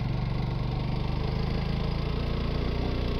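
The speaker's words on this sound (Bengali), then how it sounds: "এটা তুই 1 গিয়ার ছাড়া তুই উঠতে পারবি না তো এই বাইক" A motorcycle climbs a steep hill road between Thanchi and Mirinja Valley in first gear, its engine throbbing in a loud, steady, labouring pulse close by, with no voices.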